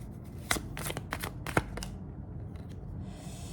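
Tarot cards are shuffled for a sentimental card reading, giving several crisp riffling bursts and soft flutters in quick succession, close and clear with no talking.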